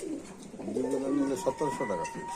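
Golden and red-necked pigeons at a pigeon sale coo in low, throaty rolling bursts close by, with voices murmuring in the background.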